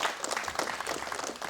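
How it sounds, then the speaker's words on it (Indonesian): Audience applause at a Panggung Caleg legislative candidates' stage event, a dense steady patter of many hands clapping for under two seconds at moderate distance with no talk over it. "Baik, boleh kita berikan tepuk tangan."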